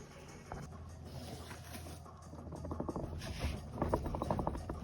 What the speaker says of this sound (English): Still a bit of rattle, but it's nothing like it was